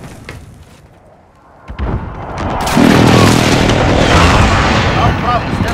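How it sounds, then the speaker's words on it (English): Airstrike explosions on the Scrapyard map in Call of Duty Modern Warfare Domination: a quiet lull, then a sudden thud followed by a sustained, loud rumbling roar of overlapping blasts lasting several seconds, with game voice chatter mixed in. "Allied precision airstrike incoming."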